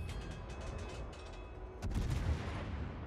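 Video game gunfire from a Venezia warship in a naval battle game, a steady rumble of shots that swells into a louder burst near the end, with no talking.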